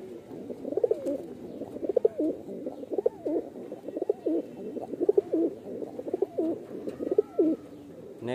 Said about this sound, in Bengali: তো আমি দুটো পায়রাকে একবার ছেড়ে শক করাচ্ছি।